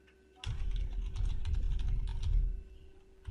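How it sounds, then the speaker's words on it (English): Steady typing on a computer keyboard to enter a password, a close, continuous patter of key clicks with a quiet steady hum behind it. "I'm going to type a password that I can remember"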